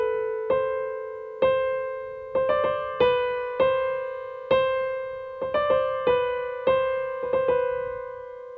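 Solo piano plays a trill passage, clear close notes struck in a repeating rhythm with quick alternating figures, each ringing and decaying, no voices.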